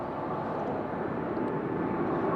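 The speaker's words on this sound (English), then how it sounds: "Apologies to this Dreamliner that's just rolling out now" A Boeing Dreamliner airliner at London Heathrow Airport gives a steady, loud broadband engine roar that holds evenly throughout without breaks.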